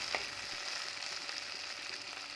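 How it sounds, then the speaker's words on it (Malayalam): Potatoes fry with chili powder and salt in a pan, a dense, steady sizzle close by, with a brief scrape of a ladle stirring near the start and no voices. "ഇനി ഇത് തവി കൊണ്ട് എല്ലാം ഒന്ന് ചേർത്ത് വയ്ക്കുക."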